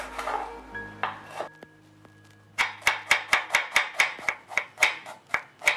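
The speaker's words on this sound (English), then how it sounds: "and half an onion, finely chopping it." Rapid knife chopping of onion on a cutting board, a steady run of about a dozen sharp, evenly spaced taps after some softer handling noises.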